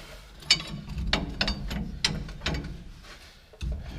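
Wrench ratcheting on a U-bolt on the rear suspension of a 3rd gen Ram 2500 truck, a series of close metallic clicks in uneven bursts over a low steady background hum.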